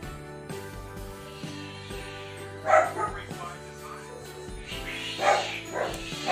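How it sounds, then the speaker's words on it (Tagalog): A pet dog barks repeatedly indoors, sharp bursts rising over a steady background of music and hum, with a person talking in between. "Nag-iskandalo na naman yung aming aso."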